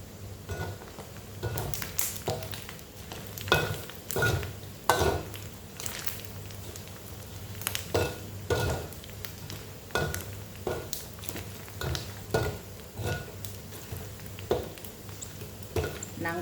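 Pork skin simmering in its own rendered oil for Thai pork rinds (khaep mu), a steady low bubbling under repeated sharp pops and crackles spread unevenly across the stretch, no talking.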